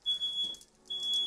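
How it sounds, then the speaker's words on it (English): A kitchen smoke alarm set off during oven cooking beeps loudly and shrilly in two long sustained tones separated by a short gap. "That would be the fire alarm."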